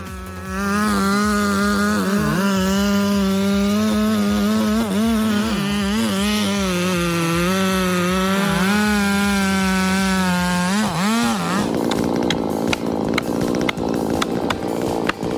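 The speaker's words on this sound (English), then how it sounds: "The whirring of a chainsaw, the aroma of wood" A Zenoa chainsaw runs steadily close by as it cuts wood, its engine whining with a slightly wavering pitch, then its tone drops and roughens near the end as the cut changes.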